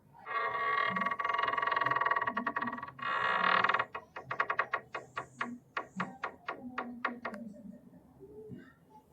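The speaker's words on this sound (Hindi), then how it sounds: "दरवाज़ा जाम है, जोर से खोलता हूँ।" A jammed door is forced open with a loud, long grinding creak in two pushes, then a run of sharp creaking clicks that slow and fade, heard up close with no talk.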